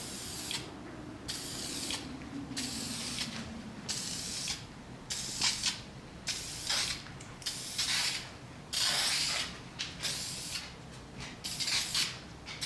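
Aerosol can sprays clear coat onto a car finish in a series of about a dozen short, loud hissing bursts with brief pauses between them.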